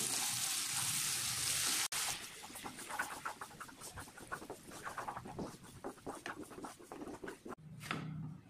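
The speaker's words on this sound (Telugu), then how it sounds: "సో ఫ్రెష్గా గ్రైండ్ చేసుకున్న అల్లం పేస్ట్ అది వేసేస్తున్నాను. పచ్చి వాసన పోయే వరకు ఫ్రై చేసుకోవాలి అల్లంని." Freshly ground ginger paste frying in hot oil for homemade chicken pickle, a faint steady sizzle with soft crackles and a few stirring scrapes, ending in a brief clatter.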